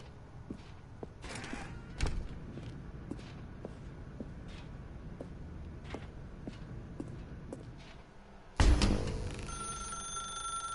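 Footsteps tap across a quiet room in a video game, then a telephone starts ringing abruptly and loudly near the end, a bright electronic ring sustained over the last couple of seconds.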